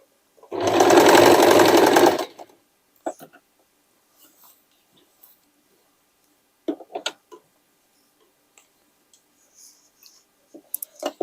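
Sewing machine stitching a denim jacket made from old jeans, one steady loud run of about a second and a half, followed by scattered faint clicks and handling noises.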